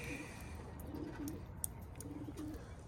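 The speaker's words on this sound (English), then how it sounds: "we got all the birds parked here, ready for liberation" Racing pigeons crated before liberation for a 150-mile race, cooing in soft, repeated low murmurs with a few faint chirps, heard alone at moderate distance over steady outdoor ambience.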